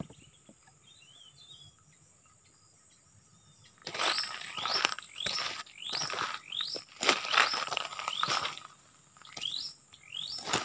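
Birds chirp outdoors with quick, rising tweets, moderately close, over a busy scuffling patter that starts partway through after a quiet opening.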